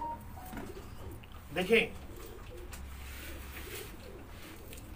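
A Kasuri pigeon gives a single short coo amid background murmur and faint speech, brief and moderately close.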